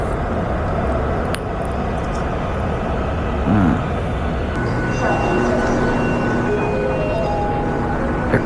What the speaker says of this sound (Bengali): মেট্রোতে চলে আসছি, মেট্রো চলে আসছে